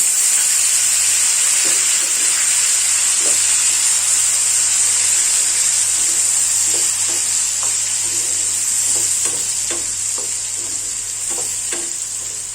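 A ground paste of ginger, garlic and a small onion fries in hot oil for a Bengali doi katla fish curry, giving a steady loud sizzle and hiss with intermittent scraping clicks of stirring.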